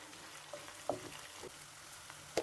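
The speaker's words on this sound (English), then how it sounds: "You're going to heat oil on a pan and then you add in your onions." Onions fry in hot oil in a pan for a Kenyan tilapia dish, giving a steady soft sizzle with a few brief pops and stirring clicks, fairly quiet and without talk.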